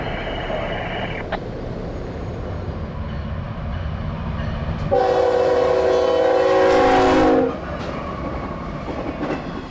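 A York Rail freight train rolls past close by with a steady rumble, and its horn sounds in a loud, sustained blast midway through.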